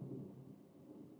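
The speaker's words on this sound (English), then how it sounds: "And the thunder rolling out there." Distant thunder rolls low and muffled, a soft, sustained rumble that swells slightly at the start and then fades evenly, heard alone without voices.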